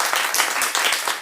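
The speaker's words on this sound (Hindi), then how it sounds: "उनके लिए तालियां बजाई जाए" An audience applauds at an indoor logo and website launch ceremony, a dense, loud burst of many hands clapping throughout.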